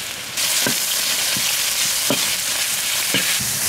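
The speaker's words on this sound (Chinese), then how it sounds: "锅里倒点油，油后下入葱花姜末，炒香以后下入肉末" Minced meat hits hot oil with chopped scallion and ginger in a wok, giving a loud, dense sizzle. A spatula scrapes and stirs it in several distinct knocks.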